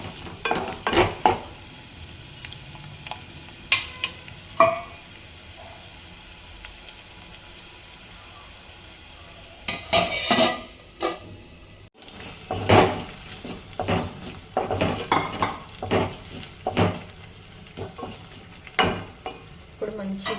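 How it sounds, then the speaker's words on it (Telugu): Slit green chillies being stirred into okra stew (bendakaya pulusu) in a pan, with bursts of spatula scraping and sizzling separated by a quiet pause midway, close and clear. "మిక్స్ చేసుకోవాలి మంచిగా"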